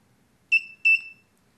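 Two sharp electronic beeps from a shot timer during home laser dry-fire training, the second slightly longer, clear and close against a quiet room with no talking.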